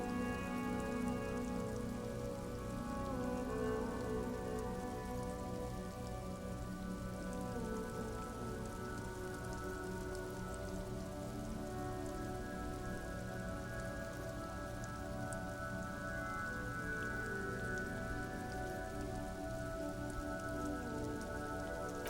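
Steady, dense rainfall at an industrial harbor with shipping containers and supply crates in the video game Disco Elysium, a constant even hiss of drops on surfaces that holds unchanged throughout, with no voices.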